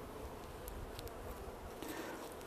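Honey bees buzz around an opened hive while a beekeeper tends it, a steady, even insect drone filling the background with faint rustles, no voices.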